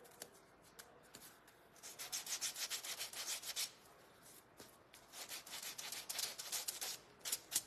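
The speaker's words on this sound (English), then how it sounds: "I really love the way that this yellow sands down." A painted yellow wooden craft piece, a flower for a raggedy-doll shelf sitter kit, being sanded by hand, heard as close, brisk, raspy rubbing strokes that come in bursts with short pauses and no talking.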